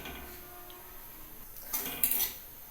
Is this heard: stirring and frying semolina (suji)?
yes